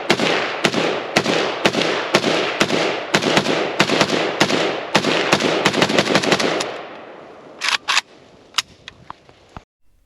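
A Romanian Nova CGR AK rifle fires at a shooting range: sharp, loud, close shots, evenly spaced at first, then a quicker burst, then a pause and a few scattered final bangs.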